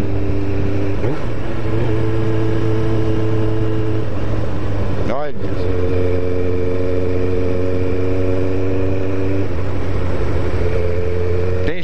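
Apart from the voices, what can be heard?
Kawasaki ZX7R sport motorcycle riding on a country road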